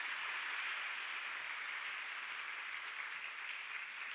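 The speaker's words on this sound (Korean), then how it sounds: "우리 목사님 나오실 때 박수로 환영하도록 하겠습니다." A church congregation applauds in welcome as the pastor comes forward at a Sunday service. The clapping is a steady, even wash heard from a distance, with no voices.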